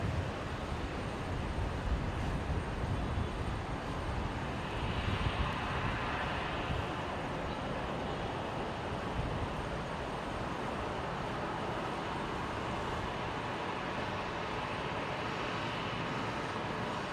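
A Qantas airliner rolls down the runway on departure at Brisbane Airport, a broad, steady engine roar heard from a distance that holds constant without any clear rise or fade.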